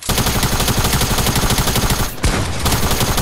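Rapid gunfire from a shotgun in a multiplayer video game, a dense stream of loud overlapping shots with a brief break before the firing resumes.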